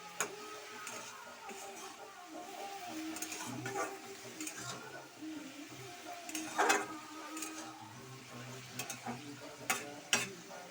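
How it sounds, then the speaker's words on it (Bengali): Potato greens stirred with turmeric in a frying pan, a soft continuous sizzle with scattered scraping and clinking of the spatula against the pan, faint and close with no talk. "পরিমাণ মতো হলুদ গুঁড়ো দিয়ে একটু নেড়ে চেড়ে নেব"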